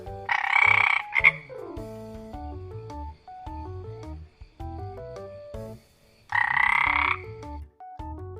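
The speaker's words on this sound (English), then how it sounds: "frog," Frogs croak loudly in two dense bursts, one at the start and one near the end, with shorter tonal calls between them and no talking.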